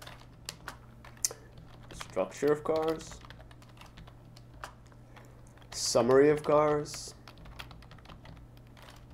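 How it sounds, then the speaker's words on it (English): Soft, quick keystrokes on a computer keyboard as R code is typed, faint clicks scattered across a quiet room while someone speaks briefly twice over them. "So I can start typing some code."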